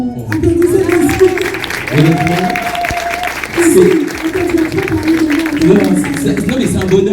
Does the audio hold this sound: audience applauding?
yes